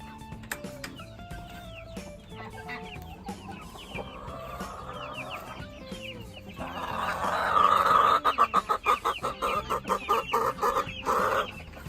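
Chickens clucking and a rooster calling on a homestead during morning chores, a busy close flock with a loud burst of rapid clucks in the second half.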